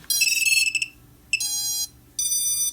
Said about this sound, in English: of course it's going to beep because it doesn't have any signal